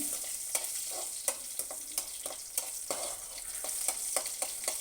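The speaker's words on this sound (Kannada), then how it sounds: "ಇವಾಗ ಉದ್ದಿನಬೇಳೆ ಹಾಕ್ತಾಯಿದ್ದೀನಿ ಉದ್ದಿನಬೇಳೆ ಸ್ವಲ್ಪ ಚೆನ್ನಾಗಿ ಫ್ರೈ ಆಗಬೇಕು" Urad dal frying in hot oil in a pan for aloo bhaji tempering, a steady sizzle broken by regular clicks and scrapes of a spatula stirring, close up.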